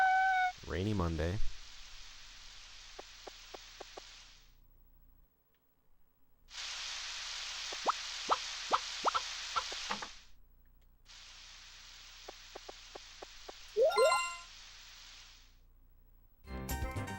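Rain in the Harvest Moon 64 video game hisses in steady blocks that stop and restart between screen changes, with small ticking game effects layered over it and a person talking in places.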